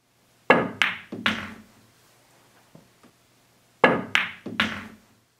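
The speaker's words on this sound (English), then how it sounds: "Does this shot look or sound any different from the original multiple hit shot?" Elevated-cue pool shot: two bursts of crisp, hard clacks as the cue strikes the ball and the balls collide, each burst three quick knocks, with a faint tap in between, close and clear in a quiet room.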